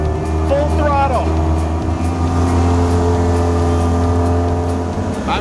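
A fishing boat's engine roars steadily at full throttle, a loud continuous droning hum with little change in pitch, while someone talks over it.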